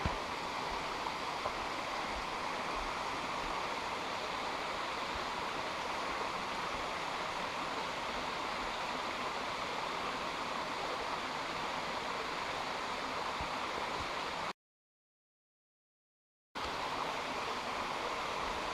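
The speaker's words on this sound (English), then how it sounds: "This is a little cascade just before the waterfall, which again is nice and cool, and we love the sound" Small cascade on a creek just below Baskins Creek Falls, a steady, full rush of falling water heard up close and unbroken, with a brief drop to silence before it resumes.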